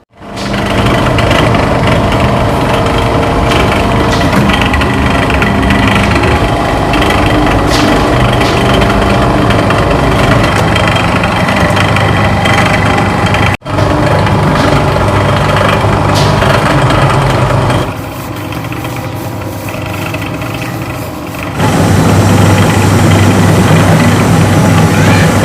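Motorized mixing machine stirring tapioca flour dough as it cooks, a loud continuous mechanical drone and rumble that briefly dips and changes tone partway through, then returns at full strength, with no talk.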